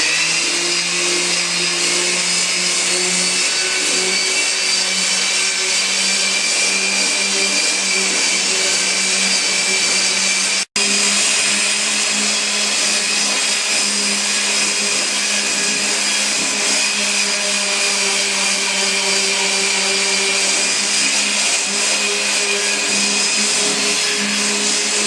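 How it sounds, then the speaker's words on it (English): A small electric palm sander runs steadily on cork, a continuous loud whine with a buzzing hum lasting the whole stretch, interrupted only by one brief click near the middle. "it's just a little palm sander, and we're going to give it a light sanding"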